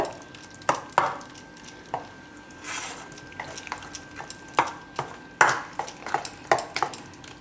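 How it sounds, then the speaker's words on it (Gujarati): A spoon mixes soya chila batter in a bowl, giving irregular scraping and tapping strokes, fairly close and moderately loud, with no talk. "હવે બધું એકદમ મિક્સ કરી લે."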